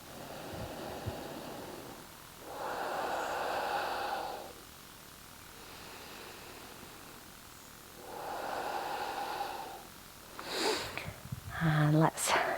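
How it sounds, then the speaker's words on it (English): Slow, steady breaths during a yoga session, with two long, soft airy inhale-exhale swells evenly spaced, then a few sharper sniffs near the end. "Slow, steady breathing."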